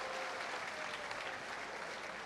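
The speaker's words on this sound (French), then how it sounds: "Applaudissez pour l'ancienne génération." A stand-up comedy audience breaks into dense, sustained applause, a continuous wash of many hands clapping at fairly low level throughout.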